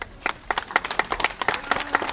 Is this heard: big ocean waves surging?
no